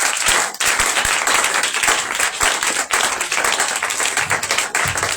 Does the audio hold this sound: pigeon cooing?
no